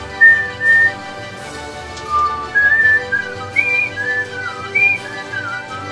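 A video game droid whistles the Star Wars theme, a chirpy, warbling tune over a steady electronic hum, its bright notes sliding up and down.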